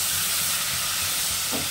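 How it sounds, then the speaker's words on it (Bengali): Potatoes with spices and a splash of water sautéing in a pan, a loud, steady hissing sizzle with faint stirring underneath, close and continuous. "জল দিয়ে ভালো করে কষিয়ে নেব।"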